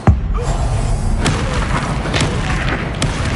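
A Confringo spell blasts in the Hogwarts Legacy video game: a sharp booming explosion at the start followed by a rumbling, crackling tail with a few fainter pops, loud and close.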